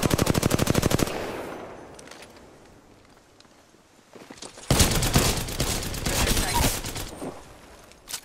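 Video game gunfire, a loud rapid machine-gun burst that cuts off, a lull, then another sustained volley of fast shots, with some speech mixed in.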